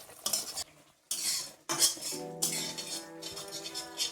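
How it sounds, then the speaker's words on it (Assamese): Spices with chili powder fry in a pan while a metal spoon stirs them, making scraping strokes and bright clinks against the pan over a soft sizzle, close-up and without speech. "এতিয়া ভালকৈ ভাজি ল'ম।"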